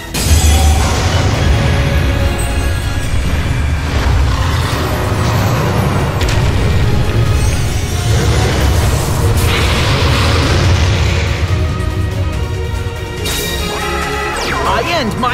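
A loud, sustained burst of booming, crashing special-effect blasts as Dragon Spirit of White's effect attack plays out in Yu-Gi-Oh! Duel Links, with dense layered impacts and swells continuing throughout.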